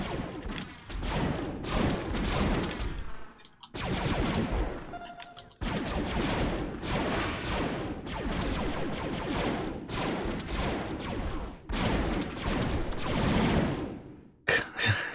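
Rapid blaster gunfire from the Star Wars Galaxies video game rattles in long, dense bursts, loud and close, broken by short gaps between volleys.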